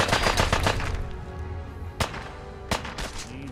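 Gunfire in the Fallout 4 video game: a rapid burst of loud, sharp shots up front, then two separate single cracks about a second apart, with no talk.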